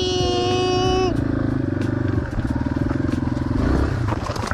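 A dirt bike engine drones and revs while riding through sand, its steady throbbing note close and loud, with a brief high whine at the start.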